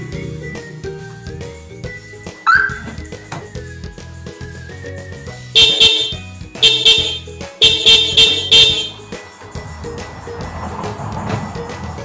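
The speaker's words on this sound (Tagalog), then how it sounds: "paparinig ko muna sa inyo yung tunog ng stock na busina nitong Montero." Stock factory horn of a Mitsubishi Montero sounds in a quick series of about five short, loud honks, preceded by a few quieter tones and with no talking.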